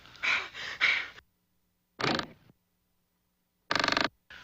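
Cartoon door creaking open in three separate drawn-out squeaks separated by silence, close and clear with no talking.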